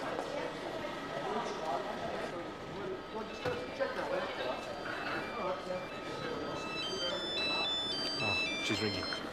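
A telephone rings with a bright, repeating electronic ringtone toward the end, over background voices and a busy ambient murmur.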